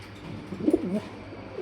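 A soft, low fancy pigeon coo, a brief burbling call heard close by against a quiet background hum.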